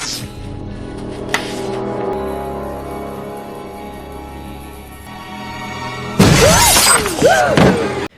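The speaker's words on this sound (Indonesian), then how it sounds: "tanpa disadarinya, gelas tiba-tiba retak" A sudden loud crash of a drinking glass cracking and shattering bursts out after a stretch of low background sound, followed by scattered tinkling fragments.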